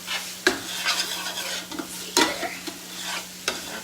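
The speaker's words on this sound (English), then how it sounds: "the vodka is just going to cook for about 3-4 minutes until the vodka basically reduces by half" Vodka sizzling and bubbling as it reduces in a pan while deglazing, with a soft steady hiss and a few sharp utensil clicks and scrapes against the pan, close and fairly quiet, no talking.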